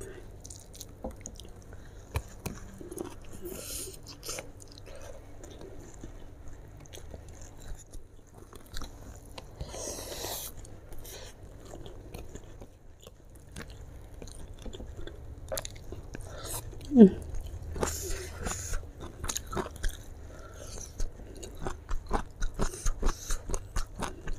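Someone bites and chews crunchy raw bitter gourd served as a fresh side with grilled woku chicken, a long run of close, wet crunching bites that grows busier toward the end.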